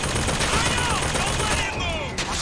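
Gunfire in the Bioshock Infinite video game, a dense, continuous burst of shots filling the whole stretch with a loud, noisy crackle, thinning out near the end.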